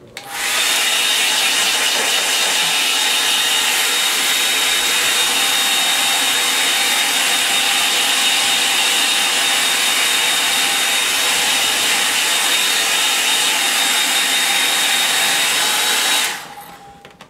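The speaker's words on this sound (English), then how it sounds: "hairdryer about to be used now" A hairdryer blows loud and steady for about sixteen seconds, a constant roaring whoosh that cuts off abruptly near the end.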